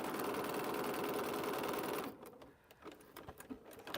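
A sewing machine stitches a seam through a paper-pieced quilt block, running in a steady dense whir for about two seconds before stopping, after which only soft handling noises and small taps remain.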